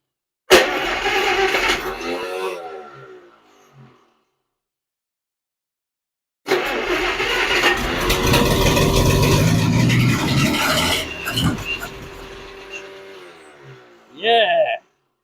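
A 75-year-old Dodge engine fires for its first start in decades: a loud two-second burst that dies away, a pause of silence, then a longer sputtering run of several seconds before it cuts out, ending with a short, sharp blip.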